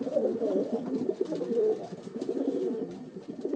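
Pigeons cooing, a close, steady run of low throaty coos that overlap and continue without pause, with no talking.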